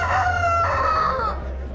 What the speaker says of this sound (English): watching two roosters rip each other to shreds